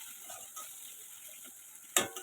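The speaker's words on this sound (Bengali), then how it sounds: "এবার আমি এতে নুন দিয়ে দিলাম, হলুদ দিয়ে দিলাম, তারপরে একটু নাড়াচাড়া করে একটু ভেজে নেব" Spices with salt and turmeric stirred and fried in a pan for ghugni, a faint low sizzle with soft scraping strokes and one sharp clank of the utensil near the end.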